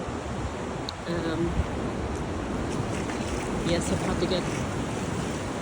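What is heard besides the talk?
waves of the incoming tide on a beach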